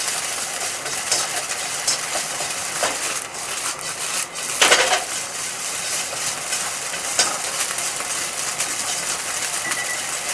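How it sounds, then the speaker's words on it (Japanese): Nissin instant yakisoba noodles fry in a pan until crisp and smoking, giving a steady close sizzle with a few scraping stirs and one brief louder clatter. "煙が出るくらいのね、パリパリに焼きます。"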